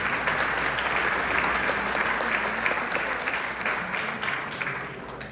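Loud, sustained applause from an audience at a Haryana government event in Chicago welcoming Arun Jemni, dense clapping filling the room steadily for about five seconds with no voice on top.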